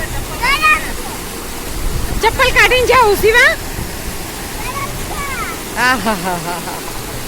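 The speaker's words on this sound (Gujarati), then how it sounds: "કુદરતી પાણી જળ ધોધ" A natural waterfall on the Raval river, flowing out of the Gir forest with cold jungle water, roars in a steady, broadband rush throughout while people talk over it.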